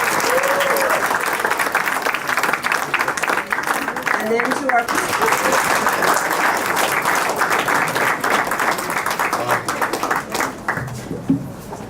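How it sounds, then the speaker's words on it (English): An audience at a Macaulay Honors event at Hunter applauds parents with sustained, dense clapping that fills the room before gradually thinning out, while a voice briefly speaks over it near the end. "So I think we all need to give our parent body a real round of applause."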